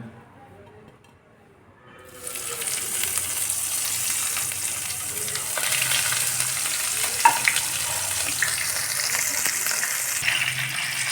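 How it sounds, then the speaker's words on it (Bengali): Pomfret fish dropped into hot white oil in a wok: near silence, then a sudden loud sizzle that stays strong and steady, with a faint clink partway through. "তেল গরম হয়ে আসছে মাছগুলোকে দিয়ে দেওয়া হচ্ছে"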